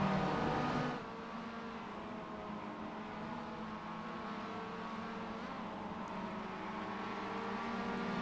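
A Mazda MX-5 race car drones steadily past on the Silverstone South circuit, a continuous engine note holding at moderate distance after a louder opening moment, with no voices heard.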